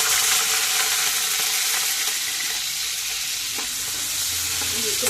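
Green chillies and sun-dried beans frying in oil in a pan for a tomato curry, a constant loud sizzle and hiss with occasional scraping stirs, no talking.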